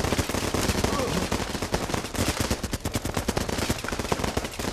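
Dense, rapid gunfire from the Running With Rifles video game fills an intense firefight, with overlapping rifle and machine-gun bursts hammering loudly and almost without pause.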